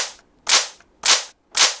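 Drum beat triggered in Logic music software: four sharp, snappy percussive hits, loud and close, spaced roughly half a second apart, each with a bright crack and quick decay, with no talking.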